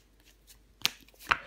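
Tarot cards placed down onto other cards on a table during a reading, giving two soft, brief slaps about half a second apart over quiet room tone.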